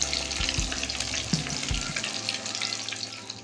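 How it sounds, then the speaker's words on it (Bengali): Pieces of lote fish fry a few at a time in hot oil, giving a steady, close hiss and crackle with a few soft bumps early on. "এবারে আমি 2-4 পিস করে ফ্রাই করছি"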